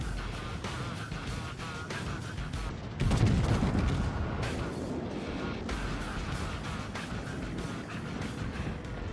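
The Bismarck battleship fires its guns in the naval game World of Warships, a heavy rumbling boom rising out of dense in-game noise and continuing rumble, with a voice talking under it.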